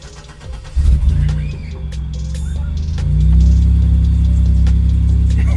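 A car engine on E85 fuel cranks and catches near the start, then settles into a steady, loud low idle that swells slightly and holds to the end, with some faint clicks and rattles above it.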